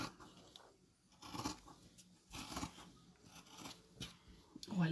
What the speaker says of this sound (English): I do love the sound of fabric with cutting like that.